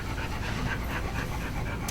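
A dog belonging to an Air Force master sergeant pants steadily and close to the mic at an indoor press event, a continuous breathy rhythm with no talking over it.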